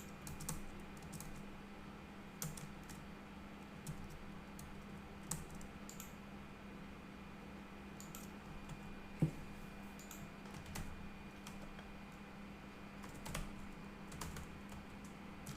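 Fingers tap steadily on a computer keyboard nearby, quick soft clicks in irregular bursts over a low, constant room hum, with one sharper key strike partway through.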